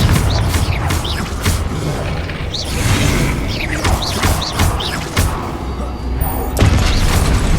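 Confringo fire spell blasts in the video game Hogwarts Legacy, loud close booms and whooshes over several seconds, mixed with crashing debris and mechanical clatter from combat.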